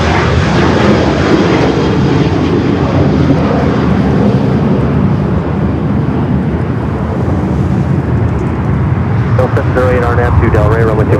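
A Lufthansa Boeing 787 Dreamliner on short final to runway 24 Right at LAX roars loudly and steadily overhead, with a broad engine rumble throughout and a voice joining near the end.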